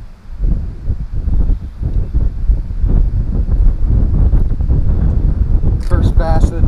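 Wind buffets a microphone outdoors while bass fishing, a steady low roaring rumble that fills the clip, with someone talking over it.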